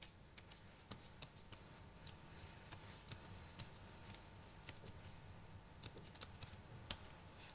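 Quiet, close keystrokes on a computer keyboard while a password is entered: irregular bursts of sharp clicks, some in quick runs and some alone, over a faint background with no talking.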